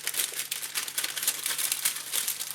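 Baking paper crinkles and crumples continuously as it is pressed into a wall inside a cake tin for a Swiss roll, close and crisp with no talking.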